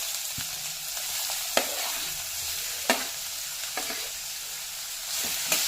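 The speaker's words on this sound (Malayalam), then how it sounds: "അതിനുശേഷം നമുക്ക് അരിഞ്ഞു വെച്ചിരിക്കുന്ന ഓണിയൻ ഇടാം." Chopped onion sizzles in hot oil with whole spices such as cloves and cardamom for a mushroom gravy, a strong constant hiss broken by several sharp stirring scrapes against the pan.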